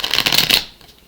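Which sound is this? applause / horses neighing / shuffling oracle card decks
shuffling oracle card decks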